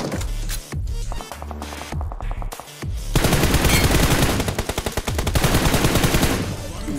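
Rapid automatic gunfire in a military-base battle-royale video game, loud bursts of fast shots building into sustained heavy firing.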